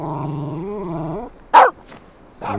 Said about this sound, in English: Please have the dog removed, Paddy.